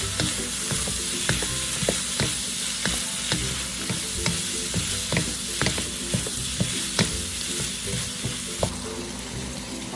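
Ground meat for spring rolls fries in a pan, a steady sizzle broken by frequent sharp scrapes and clicks of a utensil stirring, close and moderately loud with no talking.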